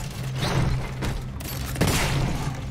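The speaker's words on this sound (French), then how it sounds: "on va la balancer à la grenade" A grenade explosion in the video game Steelrising, heard as a dense burst of booming, crackling blasts with low rumble that swells twice across a few seconds, no talking over it.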